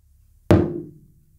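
A stick knocks once on a hard surface, a single sharp close thunk with a brief ringing decay, in otherwise quiet surroundings.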